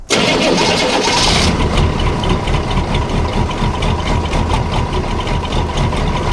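A military Chevy square body pickup's diesel engine, after glow plug cycling, cranks briefly, catches with a loud roar, and settles into a steady, rumbling, slightly clattery idle close by.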